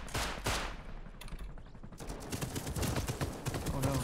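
Automated turret fire in the survival game Rust, dense bursts of gunshots running throughout, loud and close with clattering impacts, a brief lull near the middle before heavy firing resumes.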